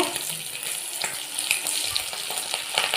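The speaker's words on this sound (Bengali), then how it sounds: "মাছগুলো আমার লাল লাল করে ভাজা হয়ে গেছে" Fish fries in a pan with a dense, crackling sizzle, close and continuous with scattered pops, and no one speaks over it.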